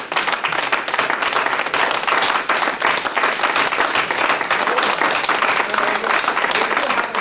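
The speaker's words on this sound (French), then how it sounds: "Clap for the Lord Jesus." A church congregation claps loudly and continuously in a thick, unbroken wash of hands, sustained from start to finish without letting up.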